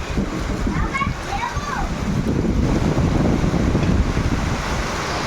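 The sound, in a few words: rain falling outdoors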